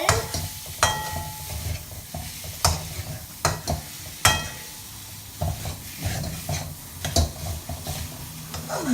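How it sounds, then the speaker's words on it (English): A spoon or spatula stirs paneer bhurji in a pan, scraping and clinking against the metal in irregular strokes over a continuous sizzle, with several sharp knocks and no talking. "After adding the paneer, mix it well."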